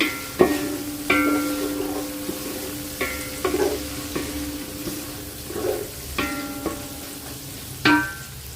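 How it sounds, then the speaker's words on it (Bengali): Chicken pieces frying in butter in a pan for fried rice, a steady sizzle broken by repeated clanking scrapes and stirs of a spatula against the pan, close by with no talking. "তো এখন হচ্ছে আমি একটু বাটার দিয়ে দিলাম। ফ্রাইড রাইসে বাটারটা দিলে কি ফ্রাইড রাইসটা অনেক মজা লাগে। আর চিকেনটা দিয়ে দিয়েছি"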